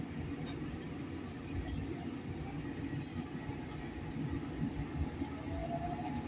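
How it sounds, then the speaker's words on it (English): Subway train on the 69th Street line pulling out of a station, a low steady rumble and rolling hum with faint squeals, moderately distant and continuous with no talk. "69th Street train making all stops."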